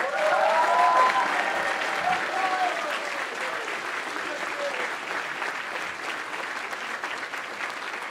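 A crowd of parents, faculty and staff at the Groton School prize day cheers and applauds loudly, a dense sustained roar of clapping that tapers off slightly toward the end.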